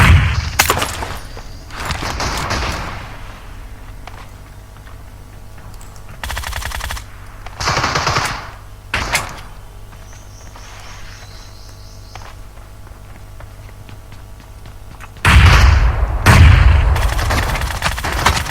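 Bursts of automatic gunfire from a PUBG match, several loud rapid volleys separated by quieter stretches of ambient game sound with a faint insect-like hum.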